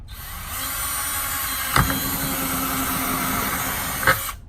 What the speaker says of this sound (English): I'm just going to drill a little hole in there.